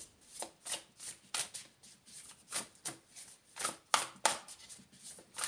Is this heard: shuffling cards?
yes